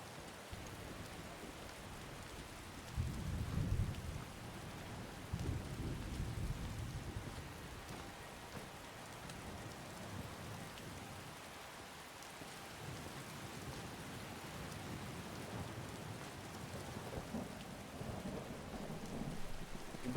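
Steady rain pours throughout in the video game Skyrim, with low thunder rumbles swelling around three to seven seconds and again near the end, no voices present.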